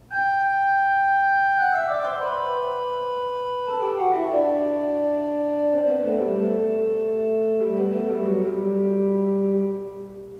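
Pipe organ plays the tune of Bach's Goldberg Variation 6 as a single descending line of sustained notes, stepping downward slowly and evenly, clear and moderately loud with a low steady drone beneath.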